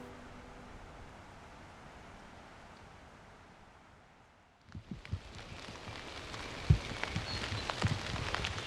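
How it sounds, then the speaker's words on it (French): Light rain falling outdoors on a wet, overcast Swedish day, a soft even hiss that briefly fades, then returns louder and closer with scattered drops and taps on nearby surfaces. "Bon, on est reparti pour une petite pluie."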